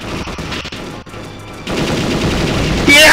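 Gunfire in the video game Perfect Dark crackles in rapid bursts, loud and dense, with continuous shooting and game noise building toward the end.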